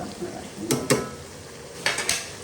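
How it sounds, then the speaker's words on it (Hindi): Spices such as turmeric, coriander, cinnamon, red chili and salt are stirred into okra frying in a pan. A spoon scrapes and clatters against the pan in two short bursts over a soft sizzle, close up, with no talking. "इसको करेंगे अच्छे से मिक्स।"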